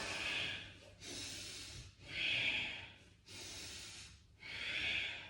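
Quick, forceful yoga breaths at double speed, five strong alternating inhales and exhales through the nose, each about a second long, close and loud with no talking.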